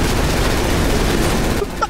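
Video game sniper rifle fire in a dense, continuous barrage of loud overlapping shots that cuts off abruptly near the end.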